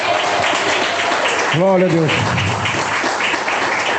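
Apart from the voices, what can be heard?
congregation applauding in church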